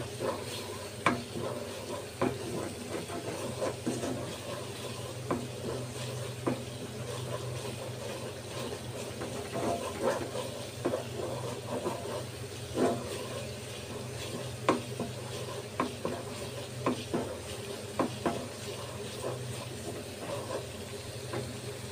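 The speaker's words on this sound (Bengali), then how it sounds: "মাছ, চিংড়ি মাছ ফেলার জন্য মশলা ভালো করে কষা নিতেছি" Spice paste for fish and prawns stirred and fried in a pan: a continuous close sizzle with frequent scraping stir strokes throughout.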